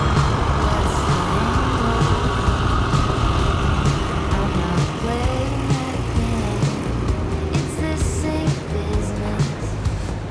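A fifty-year-old fire truck converted into a camper van drives off outdoors on a windy day, its engine rumbling steadily and fading slightly with continuous wind noise, and no talking.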